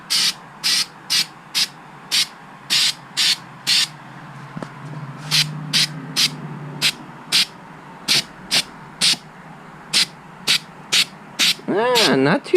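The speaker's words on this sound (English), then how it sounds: "we're gonna shake up our can and we're gonna start spraying" An aerosol can spraying undercoating onto a BMW E36, a series of short, regular hissing bursts, fairly close, with a low voice briefly heard in between.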